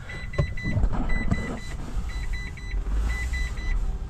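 A quiet electric car maneuvers slowly into a hangar, with repeated short beeps from its warning or parking sensors over a low rolling rumble.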